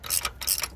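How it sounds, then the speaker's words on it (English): A 1/2 inch ratchet turning a 3/4 inch deep socket during water pump work on a 2020 GMC Yukon SLT 5.3, giving two quick bursts of close, crisp clicking. "1/2 inch ratchet."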